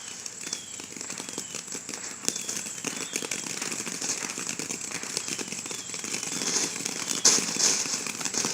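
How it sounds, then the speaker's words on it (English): Fourth of July fireworks crackle and pop continuously at a distance, a dense scattered fizz of small bursts with a few sharper bangs near the end. "They would be doing fireworks."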